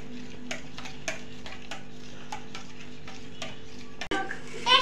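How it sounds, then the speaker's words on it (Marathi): A spoon scraping and tapping as a jaggery mixture is stirred in a pan, with regular light knocks over a low background hum, close and fairly quiet. "असं गुळ राहतो त्यामुळे चांगला हलवायचं"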